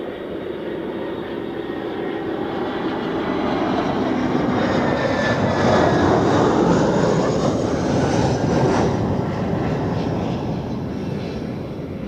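A Swiss Airbus A321 jet at Zurich Airport gives a loud, steady engine roar that swells gradually and then eases slightly, heard alone for about twelve seconds.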